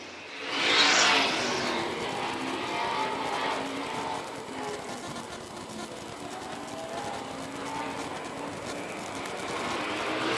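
Vintage race cars, including coupes and modifieds, circle a track at a vintage racing event in Dillon, South Carolina; a loud engine roar sweeps past up front, then a steady, slightly distant drone of cars continues.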